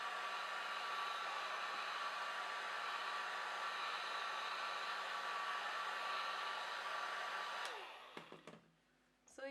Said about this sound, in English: so I'm just going to use my dryer a bit to dry it.